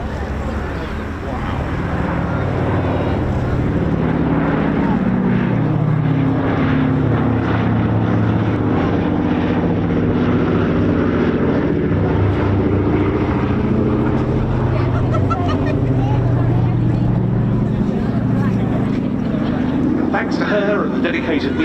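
Propeller aircraft engines rumble steadily at an airshow, a loud, continuous low drone under someone speaking over a public address throughout.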